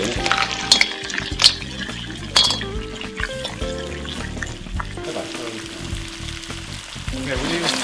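Garlic, chili and thyme fry in a pan as the base for a seafood soup, a continuous close sizzle with stirring scrapes and a few sharp clinks, while other sounds play faintly underneath.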